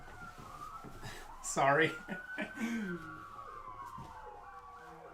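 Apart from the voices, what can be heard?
police car siren approaching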